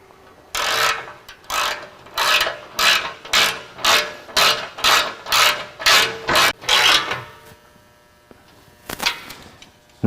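Repeated ratcheting clicks from a 14 mm wrench tightening engine skid plate bolts on a second-generation Nissan Frontier, about a dozen steady strokes, close and loud, then a pause and a short final burst.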